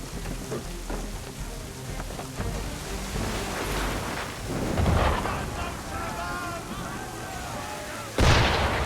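Cannon fire strikes a ship during a naval battle in Assassin's Creed 3, heavy booms and rumbling blasts rolling over a stormy, rain-like din, with a sharp loud burst near the end and faint voices underneath.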